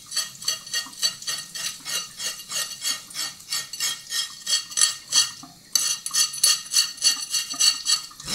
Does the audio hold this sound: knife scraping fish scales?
yes